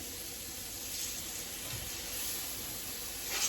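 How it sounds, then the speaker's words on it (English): Chicken searing in a hot pan gives a steady, even sizzle and hiss that runs the whole time at moderate level, with no talking over it. "you wanna get a nice sear, nice crusty sear on that side"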